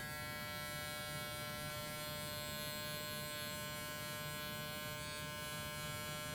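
Electric beard trimmer buzzing steadily and close, a constant motor hum with no pauses or talk.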